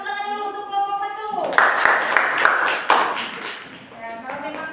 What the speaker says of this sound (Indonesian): kita tepuk tangan dulu untuk kelompok 1